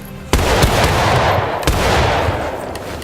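A rifle volley cracks out on command in a video game, two loud sharp gunshot bursts about a second apart, each followed by a long rolling echo and crackle, close and dominant with no talking.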